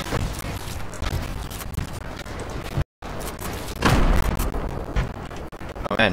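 Grenade launcher rounds explode in a multiplayer shooter game: repeated heavy booming blasts over steady battle noise and gunfire, loud and close, with a brief dropout midway.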